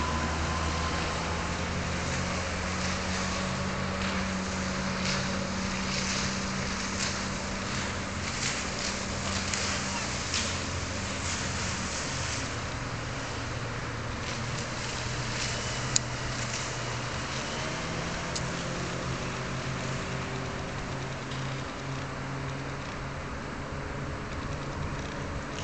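The giant car carrier ship KESS passes Fort Konstantin on its way to a port terminal, a steady low engine drone and wind-blown rumble heard from the shore, continuous and unchanging throughout.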